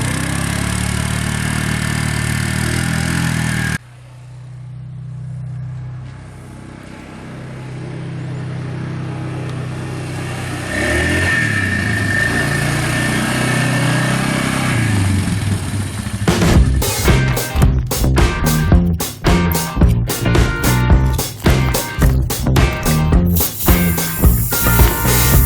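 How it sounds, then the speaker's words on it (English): A Polaris ATV four-wheeler engine runs loud and close, first at a steady drone, then a lower idle that rises again, and finally a rough, pulsing revving with rapid repeated bursts. "So the four-wheeler is running good"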